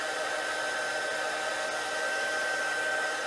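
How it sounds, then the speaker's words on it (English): A heat tool blows a steady, loud whirring stream of hot air, melting embossing glaze on a stamped mixed-media piece, with an even drone throughout and no other sounds. "It takes a minute for my heat tool to heat up hot enough"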